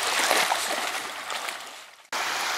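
Freezing glacial water flows and trickles in a steady, close rush, cut off briefly near the end before resuming.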